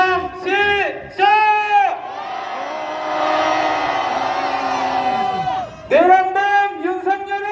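Rally crowd at an anti-Yoon Suk-yeol protest at Jeonju Gaeksa, Korea, roaring and cheering together in a long sustained loud swell, framed by shorter rhythmic chanted shouts at the start and end.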